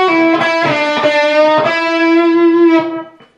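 Distorted electric guitar lick from Bad Company's Holy Water, played close and loud: a few picked, sliding notes that ring into one sustained bent tone and then fade out.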